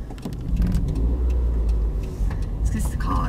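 A car's engine and road rumble fill the cabin steadily while driving, a loud, constant low drone with people talking over it.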